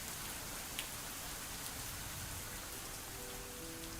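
Steady rain falls and patters on the ground outdoors, a continuous dense hiss of drops with no pauses, even and fairly close throughout.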